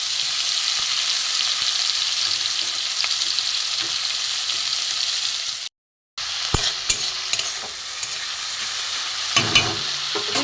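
Onion and tomato with pieces of rohu fish frying in a pan give off a dense, steady sizzle close up, broken by one brief dropout and a few scrapes and clinks of a stirring spoon.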